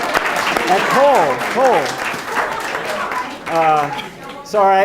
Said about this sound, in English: just a big round of applause for our hardworking broadcast